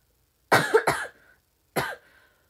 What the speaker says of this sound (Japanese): 今日咳が治らなかったからきつかったね